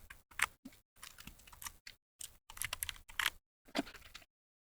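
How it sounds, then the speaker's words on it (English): Keycaps clack down one after another onto a mechanical RGB keyboard, giving a string of crisp, close, moderately quiet clicks in irregular bursts separated by short silences before the clip falls quiet. "these mechanical keyboards, they are quite satisfying sort of sound wise"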